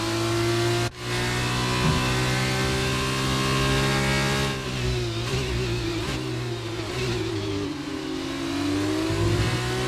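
Simulated race car engine from F1 2019 on the Baku street circuit, a steady loud harmonic drone that dips sharply near the start, then revs and shifts as it climbs through the gears and chases another car.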